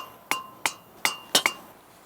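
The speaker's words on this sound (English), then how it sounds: "you're going to hammer these down in" Five sharp hammer strikes with a bright metallic ring drive stakes into garden bed edging. The blows come in an uneven rhythm, the last two close together, each one loud and close and then fading fast.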